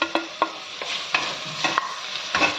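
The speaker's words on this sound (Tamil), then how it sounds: "இதையும் நல்லா ஸ்மாஷ் ஆகிற வரைக்கும் வதக்கிக்கலாம்" Tomato being sautéed and stirred in a pan for mushroom biryani, with a soft sizzle under a few sharp scrapes and clinks of a spoon against the pan, close up and without any talk.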